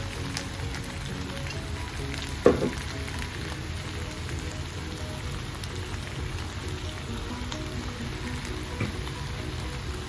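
Chicken noodles crackling in a hot pan as soy sauce goes in, a continuous even sizzle like light rain with one sharp knock near the start, no voices.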